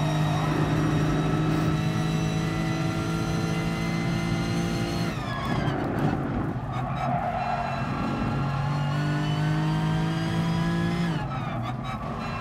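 A Lexus RCF engine in a racing video game roars loudly and continuously, holding a strained high rev with shifts and tyre squeals partway through, dense and unbroken throughout.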